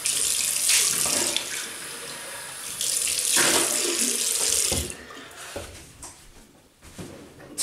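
A bathroom sink tap runs steadily as water splashes for rinsing after shaving, close and clear, then cuts off and trickles away into quieter drips and gurgles.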